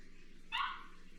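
A single short, high-pitched yip from a small dog, fairly close, over a quiet background hum.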